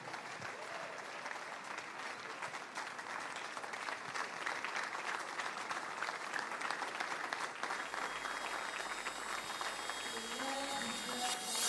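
Large audience at a Nigerian Independence Day national forum keeps up long sustained applause, steady dense clapping with a faint distant quality, continuing evenly for over ten seconds with slight background shuffling near the end.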